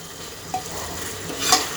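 Green peas fry with spices in a pan for a potato and pea curry, a close continuous sizzle with a spatula stirring and one brief scrape near the end.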